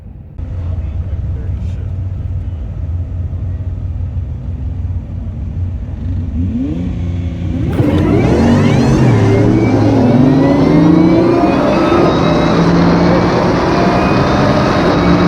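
A 2014 Nissan GTR running on E85 races a 2018 Whipple-supercharged F-150; a steady low engine rumble builds to a loud, rising rev and acceleration roar about halfway through, sustained to the end.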